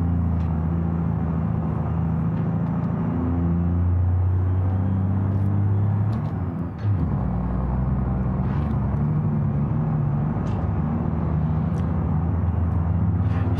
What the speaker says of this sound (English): She doesn't sound very healthy, this truck.